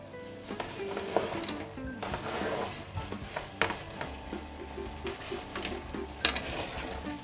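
Meat and chopped vegetables sizzle and crackle in a hot pan, with occasional clinks and scrapes of a utensil stirring.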